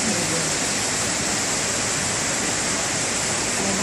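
Floodwater rushes through a street in Žižkov like a river, a loud, dense, unbroken roar of churning water filling the whole span.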